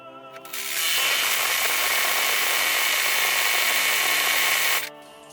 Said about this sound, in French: On laisse travailler gentiment la trépan.